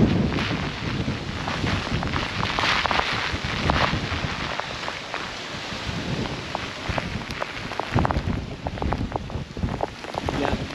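Driving rain and strong wind of Hurricane Ian, gusts around 40 to 50 mph, roar continuously outdoors with loud broadband wash and buffeting, steady and close throughout.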